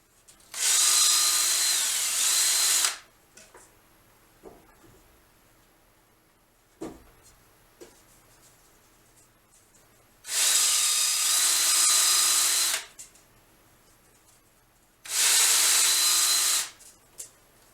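A power drill bores holes into the wooden comb of a Windsor chair in three loud sustained bursts of about two to three seconds, with faint knocks and handling in the quiet gaps.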